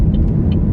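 A car driving in heavy traffic, heard from inside as a steady low road and engine rumble with faint higher tones, loud and with no talk.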